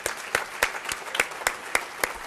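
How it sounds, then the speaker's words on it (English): Audience at a charity celebration applauding, a steady crowd of clapping hands with sharper individual claps standing out, moderately loud and continuous, with no speech. "another round of applause"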